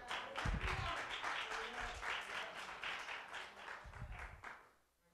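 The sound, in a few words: congregation clapping hands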